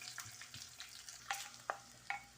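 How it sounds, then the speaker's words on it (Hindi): A tempering of garlic, onion and green chilli sizzles and fries for mash and chana lentils, a steady crackling hiss with a few sharper pops and stirring clinks. "मैंने लहसुन और प्याज का हरी मिर्च का तड़का लगा दिया दाल को"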